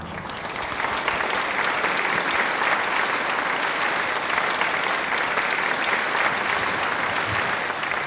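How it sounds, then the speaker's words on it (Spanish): An audience at a book presentation for 'Hombre de Barro' claps: dense, sustained applause that swells in after a moment and holds steady and loud to the end, with no voices over it. "¿Por qué no vamos a dar un aplauso?"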